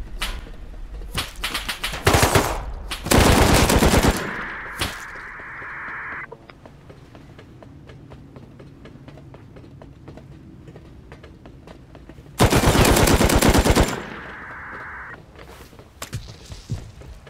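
Bots in the video game Rust fire guns in loud automatic bursts, two long volleys with scattered single shots and quieter rattling between them.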